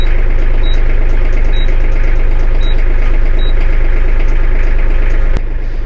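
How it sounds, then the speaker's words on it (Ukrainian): An Iseki Geas AT33 small tractor engine idles loudly and steadily while a high reversing beep sounds four times at regular intervals, then the engine note drops. "Коли ви здійснюєте рух назад, тракторець відповідно видає певний звук."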